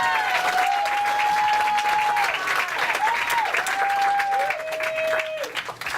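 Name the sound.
audience applause at stand-up comedy show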